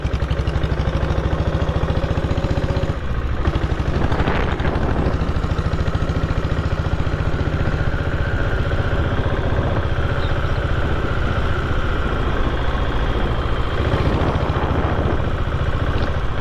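A 1997 diesel Bullet motorcycle engine runs steadily at idle, a loud close, continuous low thumping drone with a dense even pulse. The level stays constant throughout, with a brief dip and a few small bumps.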